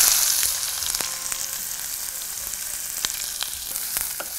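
Cinnamon bark and onion sizzle in hot oil in a pan. The steady, close frying hiss is broken by sharp spits and crackles, and no one talks.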